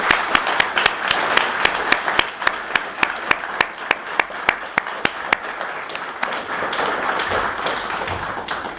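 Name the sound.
audience applause at dedication ceremony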